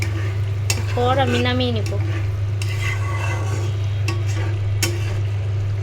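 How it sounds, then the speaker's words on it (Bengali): Cumin tempering is poured into a meat curry, giving a steady close sizzle with scraping stirs throughout, while someone speaks briefly over it. "এখন আমি জিরার ফাঁকি দিয়ে দিচ্ছি।"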